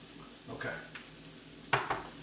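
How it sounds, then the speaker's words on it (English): Stirring a simmering meatless lasagna sauce in a pan, with soft scraping swirls and a gentle sizzle underneath, ending in a couple of sharper clinks of the spoon against the pan. "So this, we're just going to mix, let it simmer"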